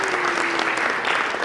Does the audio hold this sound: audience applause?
yes